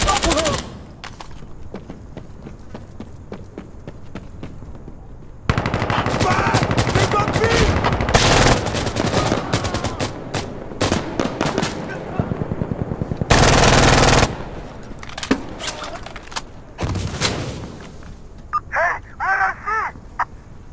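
Gunfire from the video game Insurgency: loud, sustained automatic bursts and rapid shots, some dense and continuous, others short and choppy, with occasional voices.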